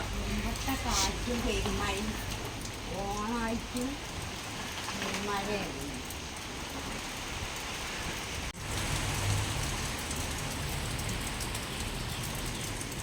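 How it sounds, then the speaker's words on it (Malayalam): Heavy rain falls as a steady, dense hiss of drops on surfaces throughout, with people talking over it. "നല്ല മഴ"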